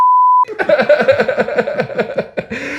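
A loud, flat censor beep tone opens, then cuts off into chuckling and laughter from a few people nearby.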